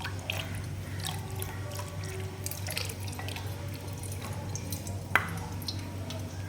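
Water trickles and drips over a Krishna idol, soft continuous patter with scattered droplets and one sharper splash near the end, under a low steady hum.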